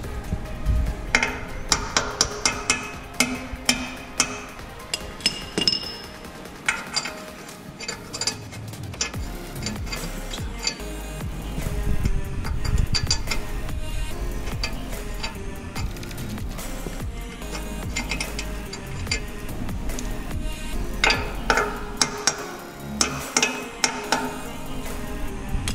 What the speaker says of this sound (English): you might need to whack it with something. I know you're all saying, a ratchet's not a hammer